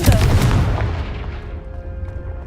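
A Confringo blasting spell goes off in the Hogwarts Legacy video game, a loud booming burst at the start that rolls off into a fading rumble.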